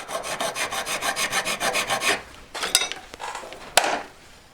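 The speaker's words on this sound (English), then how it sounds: "I'm showing you me filing it up." Steel file rasping across a V-claw being shaped by hand, a quick run of rhythmic scraping strokes, then a pause and a few separate, sharper scrapes and clinks, close and moderately quiet.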